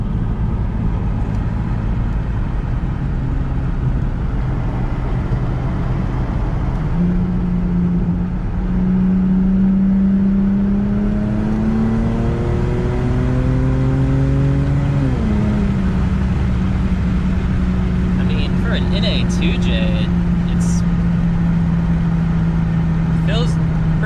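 Lexus GS300 with a straight pipe exhaust driving along a remote road, a steady loud engine drone with rising and falling pitch as it shifts and accelerates, over constant road rumble.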